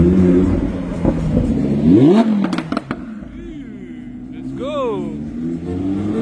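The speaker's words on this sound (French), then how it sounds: "il y en a d'autres qui tapent des rupteurs là-bas" Sports cars at a Cannes carspotting gathering, among them an Audi R8 V10 and a Ferrari F12, bounce off their rev limiters with sharp revving bursts and crackles amid street noise, while people talk over the engines.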